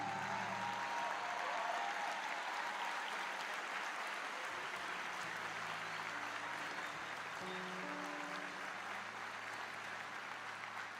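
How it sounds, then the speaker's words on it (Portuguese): A church congregation applauds in a steady, dense wash of clapping that carries on unbroken for the whole stretch, filling the room at moderate volume, with a few faint voices underneath. "Será que você pode dar uma salva de palmas"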